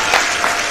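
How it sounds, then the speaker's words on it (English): Brief burst of clapping from a small group of people outdoors during a dating-style game show, steady and fairly loud for under a second with no voices. "May I clap for him?"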